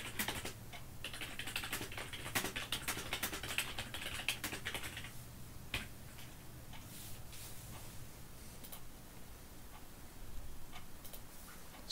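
Soft, rapid keystrokes on a computer keyboard attached to an older Intel Pentium M laptop, a steady patter of clicks heard close but quietly, busiest in the first half and thinning out later, with no voices.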